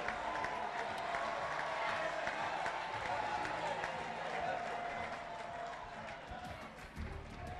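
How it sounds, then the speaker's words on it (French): Audience applause at a formal speaking event welcoming the chamber of commerce president, a steady dense wash of clapping from a crowd lasting throughout, fairly loud and continuous. "Merci d'applaudir pour lui."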